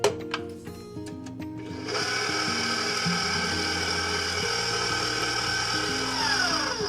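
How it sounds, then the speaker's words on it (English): A KitchenAid stand mixer beats a thin flour batter at medium speed: a few knocks at first, then a steady, close motor whir that holds evenly to the end. "I'll mix this on a medium speed until it looks like a thin batter, about 30 seconds."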